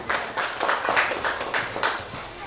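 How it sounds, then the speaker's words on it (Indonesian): Congregation clapping in unison at a church wedding blessing service, a rhythmic series of about eight firm, evenly spaced claps, close and clear with a slight echo. "Berikan tepuk tangan kepada Tuhan"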